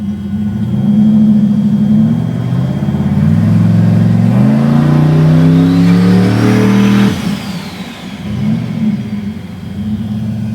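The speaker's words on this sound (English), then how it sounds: "I'll do a quick spool up for you, since everybody loves spool ups" Turbocharged 4.8 LS V8 in a Mercury Zephyr wagon revs hard and close, its rising whine climbing with the throttle before the engine drops back to a rumbling idle, with no blow-off valve.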